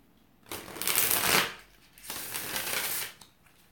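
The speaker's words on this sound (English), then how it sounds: "I'm going to shuffle those cards that fell." Two quick bursts of cards being shuffled, close and crisp, each riffle lasting about a second with a short pause between.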